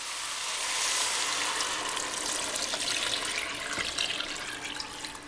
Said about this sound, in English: So what I'm going to do now is go ahead and add in all of my water.